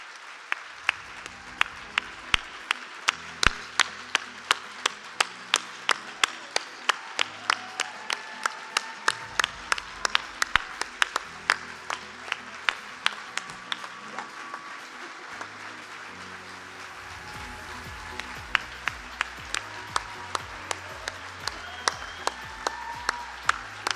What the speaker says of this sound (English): ask you to give them a big round of applause